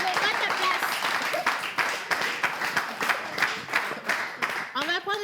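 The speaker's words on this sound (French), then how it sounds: "Merci, Santrinos. On applaudit." Audience clapping at a live French-language variety show, a dense continuous round of applause that swells and thins, with voices rising over it near the end.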